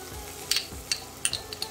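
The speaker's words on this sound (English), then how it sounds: "And also I'm gonna be adding garlic." Garlic frying in a pan with green chilies and spring onions, a steady low sizzle broken by several short metallic clinks from stirring.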